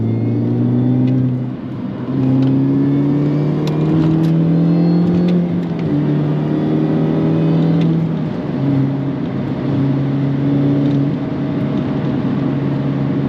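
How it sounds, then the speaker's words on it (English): A supercharged Mini Cooper S R53 engine revving from inside the car, a smooth rising and falling drone with whine climbing through the revs and brief dips between gears, loud and close. "She will rev for days."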